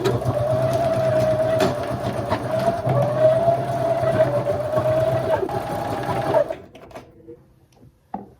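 Sewing machine running a zigzag stitch through denim jeans during an alteration, a steady loud mechanical hum with rapid needle chatter for about six seconds, then stopping, followed by faint handling noises.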